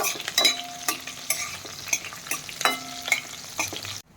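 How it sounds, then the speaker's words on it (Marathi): Green chilli pieces sautéed in a pan, a steady sizzle with rhythmic spatula scrapes and taps close by, ending abruptly, with no talking. "आता ही जी मिरची आहे ही व्यवस्थित परतून घ्यायची आहेत"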